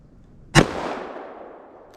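A single sharp .357 Magnum shot, 158 grain, fired from a snub-nose revolver into clear ballistic gel behind fabric and quarter-inch fiberboard, a loud crack followed by a fading echo tail.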